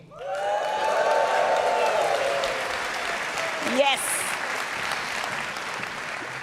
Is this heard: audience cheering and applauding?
yes